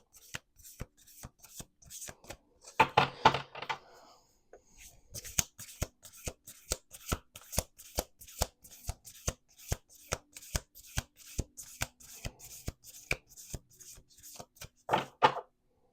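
Tarot cards riffle-shuffled at close range in repeated sharp flurries, a long run of crisp snapping riffles with brief pauses and a denser cascade of cards near the start and end.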